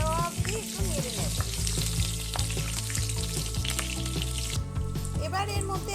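Whole cumin seeds and split green chillies crackle and sizzle in hot oil, a loud continuous frying hiss with brief bursts as they are stirred, and a voice speaks quietly underneath.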